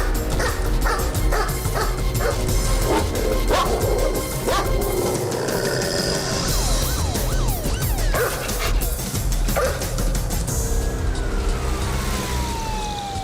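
Spaniel police dog barking repeatedly and yipping close by during an East London night search, with whimpers and a siren-like wail in a noisy background.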